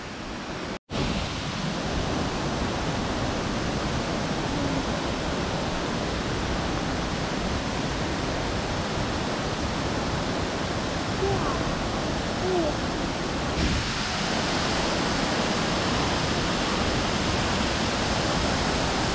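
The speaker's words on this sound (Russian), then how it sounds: "Приближаемся к самому большому водопаду" The largest waterfall in Abkhazia roars as a broad, steady rush of falling water that fills the scene continuously, loud and close, with someone speaking over it.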